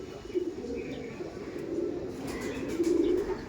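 Giribaz high-flying pigeons, including a female, coo nearby in low, soft, repeated murmurs, with a faint hum of background noise.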